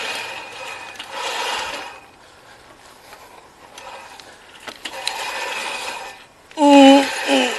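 A manual push reel lawn mower cutting dry grass, with bursts of whirring, clicking blade rattle that rise and fade as it rolls, separated by quieter gaps, ending in a loud, close squeal from rubbing wheels.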